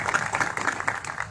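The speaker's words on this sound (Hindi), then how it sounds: "अपने आप के लिए एक बार जोरदार तालियां बजाना।" Audience clapping at a live talk, a quick burst of rhythmic, fairly close hand claps that is moderately loud and lasts the whole short clip.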